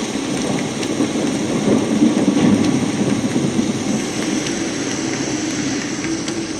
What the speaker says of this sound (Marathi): रात्रीचा गडद अंधार, आषाढाचा अविरत धोधो असा पाऊस, घोंघावणारा वारा